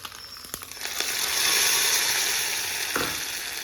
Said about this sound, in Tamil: சும்மா கடுகு, சீரகம், கடலைப்பருப்பு போட்டு கருவேப்பிலையை போட்டு தாளிச்சிட வேண்டியதுதான்.